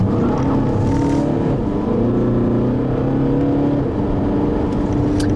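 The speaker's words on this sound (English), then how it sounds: "All you really hear is a little bit of diesel clatter when you get on the throttle." A 2012 Volkswagen Passat TDI diesel engine under acceleration, heard from inside the cabin as a steady low droning hum with faint clatter, rising slightly in pitch as it pulls.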